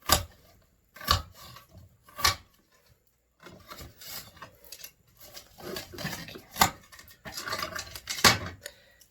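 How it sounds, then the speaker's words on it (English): Knife chopping through an onion on a board, with several sharp, close cuts: a few isolated strokes early on, then a denser run of chops and scraping toward the end, no talking. "while I do this, cut this onion up"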